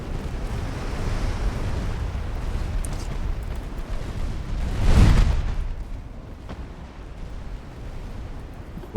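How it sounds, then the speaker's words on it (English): A torpedo hits a battleship in the naval game Ultimate Admiral Dreadnoughts. A deep, booming explosion swells midway out of a constant rumbling sea-and-wind wash, then fades back into it. "There's a torpedo hit on the battleship"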